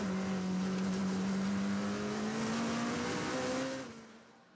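A race car engine, from an Aston Martin and Porsche battle on track, holds a strong steady tone that rises gradually in pitch as it pulls away, then fades out near the end.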